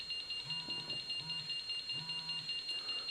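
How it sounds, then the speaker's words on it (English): A Tetra 3 LEL gas monitor in full alarm mode gives steady, evenly spaced electronic beeps, roughly one pulse every three-quarters of a second, with a constant high whine behind them, close and clear. "now it's gone to full alarm mode"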